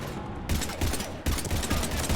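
Rapid bursts of gunfire hammer away at husks in the Mass Effect 3 video game, dense overlapping shots in two loud volleys with a short gap between them.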